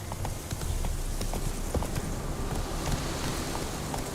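Roach, a horse in The Witcher 3, galloping with rapid rhythmic hoofbeats on the ground, steady and fairly close under ambient game background.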